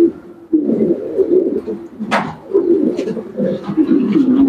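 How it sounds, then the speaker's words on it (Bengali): Champion breed pigeons, including Mundial birds, cooing close by in a loft, a continuous chorus of low throaty rolling coos rising and falling, with a brief sharp rustle midway. "এগুলো হচ্ছে চ্যাম্পিয়ন ব্রিডের কবুতর"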